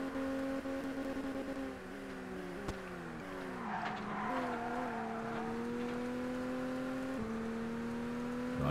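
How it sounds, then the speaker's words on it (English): Race car engine in the ToCA Race Driver 2 video game, droning loud and steady at high revs while it bounces off the rev limiter at around 164 mph, with pitch dips at gear shifts and tire noise underneath. "Bouncing off the rev limiter, 164 miles an hour top speed."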